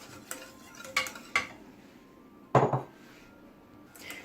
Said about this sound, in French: Je vais ajouter ce mélange au lait et je vais remuer à feu moyen.